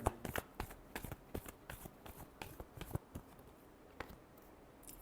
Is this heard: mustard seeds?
no